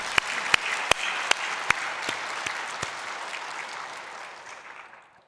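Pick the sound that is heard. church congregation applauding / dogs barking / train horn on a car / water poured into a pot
church congregation applauding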